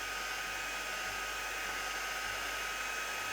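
A heat tool blows a steady, loud, unbroken hot-air hiss over a stamped design, running alone without pause from start to end.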